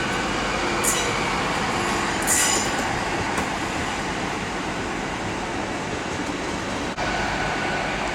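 A train running through Leeds station, a steady loud rumble of wheels on track with faint high squeals breaking through now and then, continuous for several seconds and no voices.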